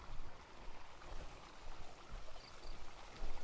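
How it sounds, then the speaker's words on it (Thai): Water flowing in a steady, even rush of broadband noise, continuous throughout with no voices. "นี่คือน้ำไหลแล้วน้ำเนี่ยต้องไหลมาจากอะไรสักอย่างหนึ่ง"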